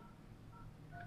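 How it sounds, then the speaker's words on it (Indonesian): A phone keypad dials star 21 star on a call-centre phone menu, giving three short electronic DTMF beeps, faint and close over low background noise, with no talk. "Bapak ketik bintang-bintang 21 bintang"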